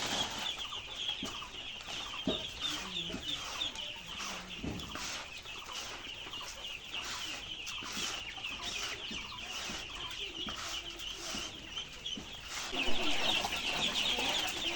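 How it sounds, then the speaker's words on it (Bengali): A flock of chickens clucks and chatters continuously and restlessly, a busy, overlapping din of many birds calling at once, with a louder burst near the end. "পাখিগুলো খাওয়ার জন্য অস্থির"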